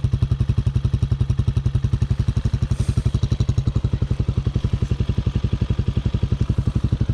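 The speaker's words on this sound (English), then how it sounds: "I think it's idling very nicely." A High West Hawk 250cc street-legal dirt bike engine idles with a rapid, even putt-putt exhaust pulse, close and loud, holding steady throughout with no speech.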